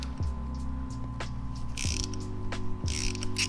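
Ratchet wrench loosening the front suspension bolts on a Honda Rebel 300/500 motorcycle, a close, steady series of ratcheting clicks with a few louder clunks and short pauses, no talking.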